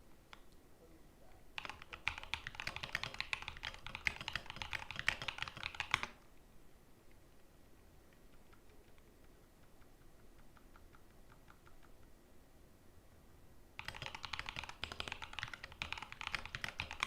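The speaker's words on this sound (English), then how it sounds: "He's typing something in the WhatsApp." A man types a WhatsApp message on a keyboard in a cabin on a blizzard morning: two dense bursts of rapid, close key clicks separated by several seconds of quiet room tone.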